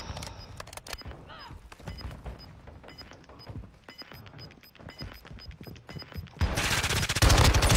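Video game gunfire from an MX9 gun, rapid bursts of sharp shots and impacts in a loose rhythm over several seconds, ending in a louder dense barrage.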